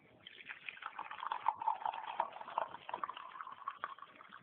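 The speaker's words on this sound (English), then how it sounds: "I'll pour it into a cup." Ginger infusion with fresh lemon juice poured from a pot into a cup, a steady close trickling and splashing stream that rises and falls in level for several seconds with no voices.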